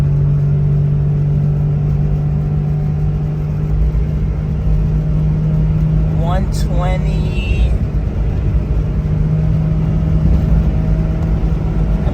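A Honda Z car accelerates hard on a top speed run, a steady droning engine and road roar heard from inside the cabin while someone speaks briefly over it.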